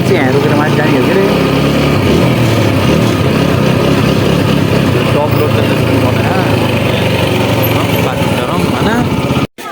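A motorcycle engine idles near Sarangkot, Pokhara, in a loud, steady buzzing drone that runs almost unbroken for nearly ten seconds, with people talking over it before a sudden stop at the end.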